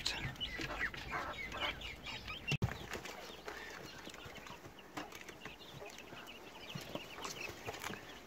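Silkie chicken chicks cluck and cheep in a run of soft, repeated chirps, fairly faint and close by, with a sharp bump partway through.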